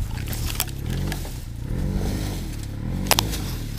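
Honda Rancher 420 ATV engine running steadily as it creeps forward on a rough wooded trail, a low continuous rumble with a few clanks and scrapes, close by.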